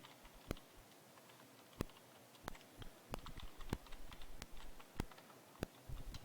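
Keys click on a computer keyboard while footer text is entered in a word processor, a quiet, irregular run of distinct taps over several seconds with no voices.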